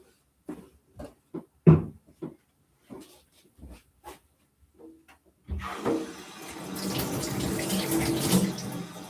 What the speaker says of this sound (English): I'm washing the plums right now in preparation to make the umeshu